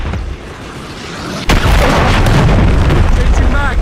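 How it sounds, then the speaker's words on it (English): A cruise missile blast in a shooter video game hits as one sharp, loud boom, then leaves a heavy rumbling roar that carries to the end. "Hostiles launched the cruise missile."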